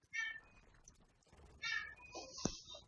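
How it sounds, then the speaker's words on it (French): A cat meowing indoors, two short, clear mews about a second and a half apart, faint and close, with a small thump after the second. "vous allez entendre mon chien miauler pendant quelques secondes"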